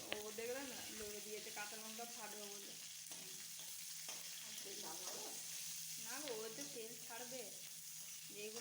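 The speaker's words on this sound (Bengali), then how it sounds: "এরপর আমি তেলের মধ্যে দিয়ে দেবো হাফ চা চামচ কালো জিরে।" Nigella seeds and slit green chillies sizzle in hot oil with a steady, continuous crackle, close and fairly loud, with brief stirring scrapes partway through.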